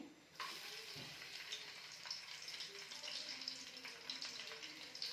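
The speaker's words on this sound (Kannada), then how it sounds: "ಇವಾಗ ಎಣ್ಣೆ ಕರಲೆ ಮೊದಲಿಗೆ ಬೆಳ್ಳುಳ್ಳಿನ ಸ್ವಲ್ಪ ಜಜ್ಜಿಟ್ಕೊಂಡಿದ್ದೆ ಅದನ್ನು ಹಾಕ್ತಾಯಿದ್ದೀನಿ" Crushed garlic dropped into hot oil in a home kitchen, a sudden loud sizzle that settles into steady bright crackling frying, with faint voice at the very start.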